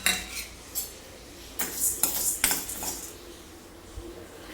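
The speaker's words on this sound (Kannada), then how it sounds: "ಈಗ ಮೊದಲೇದಾಗಿ ಉದ್ದಿನಬೇಳೆ ಕಡಲೆಬೇಳೆ ಹುರ್ಕೊಳ್ಳೋಣ" A utensil clinks and scrapes against a pan while urad and chana dal are roasted for Karnataka bisibelebath, with irregular metallic taps and brief scraping bursts, close up and without talk.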